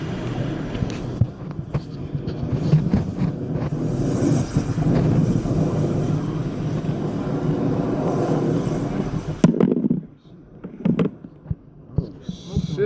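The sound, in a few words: burning garbage truck fire roaring like a jet engine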